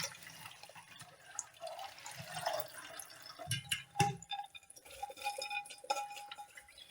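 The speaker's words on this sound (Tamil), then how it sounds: "இந்த டைமில் நம்ம என்ன பண்ணணும்னா இதை தண்ணியை வடிச்சிக்கலாம்." Water drains out of green gram soaked overnight, giving quiet, irregular drips and trickles with a few sharper splashes around the middle.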